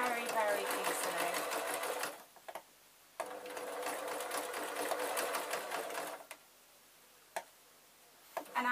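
A sewing machine stitches a felt beret in bursts of rapid, steady ticking, with pauses of near silence between the runs and faint quiet moments of handling.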